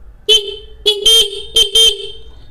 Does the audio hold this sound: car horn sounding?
yes